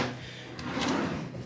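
A bathroom drawer slides open or shut with a soft wooden rumble and a few light knocks, close by over a steady background hiss, with no talking.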